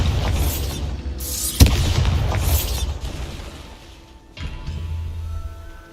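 Bombarda spell blast in Hogwarts Legacy, a loud booming explosion with a sharp crack over a rumbling game soundscape, followed by fading debris and a second, softer thud.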